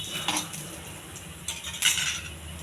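Cumin, mustard seeds and chana dal roasting in a pan, with a few light metallic scrapes and clinks of stirring over a faint, low sizzle.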